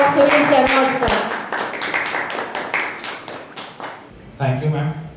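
An audience at a CBSE in-house teacher training program gives a speaker a round of applause, with distinct rhythmic handclaps rising then fading before a voice begins speaking.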